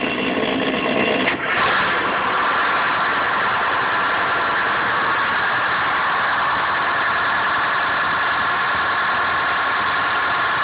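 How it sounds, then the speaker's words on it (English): A boat's starboard engine cranks and catches, then settles into a steady, loud, continuous idle that drones evenly to the end. "we're going to show you the engine as it starts."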